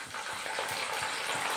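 Salty water poured into a pot of dal, a steady gushing splash that runs on briefly, close and fairly loud with no talk.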